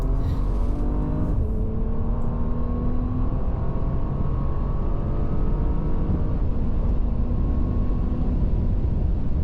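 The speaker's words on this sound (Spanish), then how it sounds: "escuchéis un poquito el sonido del motor como empuja" A Bentley W12 engine pulls hard from 100 km/h on the Autobahn, a loud, steady drone with rising tones, wind and road roar filling the cabin without pause.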